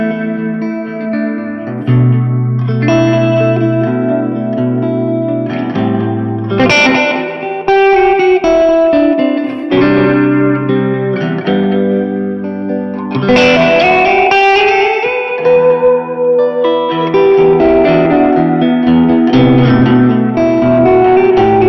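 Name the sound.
guitar through Bogner Ecstasy Mini amp, El Cap echo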